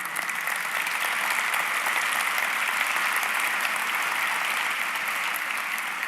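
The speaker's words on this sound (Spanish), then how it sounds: "puedes aplaudir a Dios" A church congregation applauds steadily and loudly together, a dense wash of hand claps sustained throughout without pause or voices standing out.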